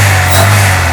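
1982 Mercedes-Benz W123 230E with a freshly rebuilt fuel distributor, engine held at a steady rev under throttle, loud and close with a strong low hum, no talk.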